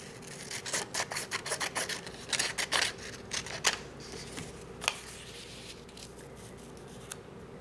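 Scissors cut paper for a folk art piece in a quick run of close, rhythmic snips, then a few slower, scattered cuts and light rustling.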